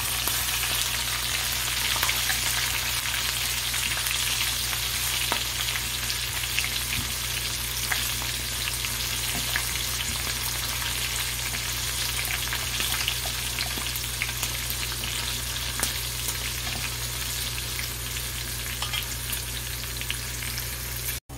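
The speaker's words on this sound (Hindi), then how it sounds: "देखिए ये कड़कड़ाने लगी मिर्च तो अब हम इसके अंदर प्याज और हरी मिर्ची शामिल कर देंगे" Onion and green chillies fry in a crackling chilli tempering for a dal, making a dense, steady sizzle with scattered small pops and crackles, close and continuous for the whole stretch, with no speech.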